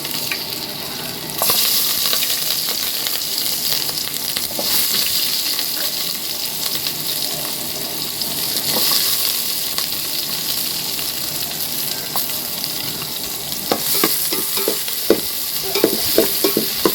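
Tomato and onion frying in oil in a pan, a loud, steady sizzle running throughout with occasional stirring scrapes and crackles near the end.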